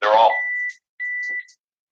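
A landline phone beeps twice, two steady high electronic tones each under a second long, separated by a brief gap; a short burst of talk comes just before the first beep.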